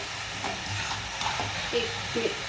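A spoon stirs chili powder into green onion greens and dal in a pan, producing soft scraping and a low sizzle with a few light knocks against the pan, close and without talk.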